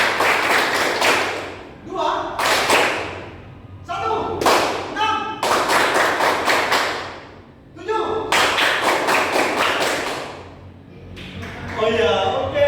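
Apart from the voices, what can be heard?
group clapping a five-beat clap pattern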